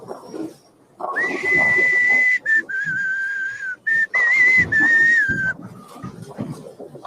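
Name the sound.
person whistling a song while wearing a mask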